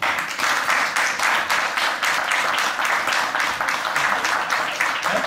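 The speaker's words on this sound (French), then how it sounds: "Je vous demande d'applaudir Madame Eugénia." An audience applauds for Madame Eugénia, a clairvoyant introduced at a stage show, a steady dense wash of clapping filling the whole stretch with small swells and no voices over it.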